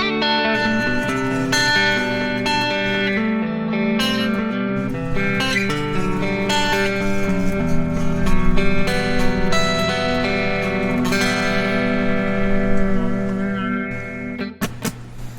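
A clean electric guitar with a DiMarzio Air Norton humbucker pickup rings out with full, warm chords and picked notes, steady and close, with a slight shimmer of reverb and no voices.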